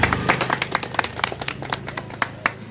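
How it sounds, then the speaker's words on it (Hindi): Audience at a Lucknow trade association (vyapar mandal) gathering clapping together; a steady run of scattered, overlapping hand claps at moderate loudness, with no talking. "तो एक बार इनके लिए जरूर तालियां बजनी चाहिए।"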